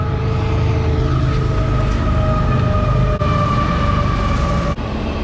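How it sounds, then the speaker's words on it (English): A train passes close by a skatepark, a loud continuous rumble with droning tones and a high metallic whine held steady throughout, with no voices. "hopefully you can hear me over the sound of this beautiful train that's passing by"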